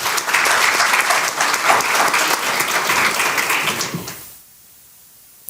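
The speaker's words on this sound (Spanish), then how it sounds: "Un aplauso para él." Loud, dense applause from a conference audience welcoming a speaker, steady clapping for about four seconds before cutting off to near silence.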